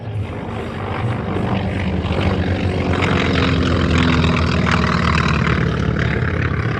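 A T-28 warbird with a radial engine out front flies past at an air show, a loud propeller drone that swells over the first seconds and holds steady and close, with a rough throbbing tone.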